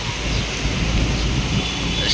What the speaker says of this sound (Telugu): వర్షం పడిపోతుంది బాబాయ్.